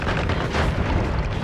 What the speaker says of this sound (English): The importance of explosion immunity.